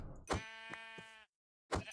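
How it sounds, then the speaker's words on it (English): Video game sheep bleating: two close, loud bleats in quick succession, a short pause, then a third starting. "Alright, sheep."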